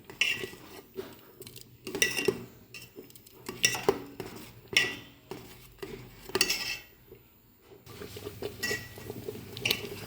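A spoon scraping and stirring rice with turmeric and salt in a metal cooking pot, a series of close, irregular clinks and scrapes separated by short quiet gaps.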